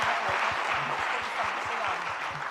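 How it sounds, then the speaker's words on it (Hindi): An audience at a religious gathering claps together in a dense, steady burst of applause that stays loud and even throughout. "जरा अपन तालियां बजाएं"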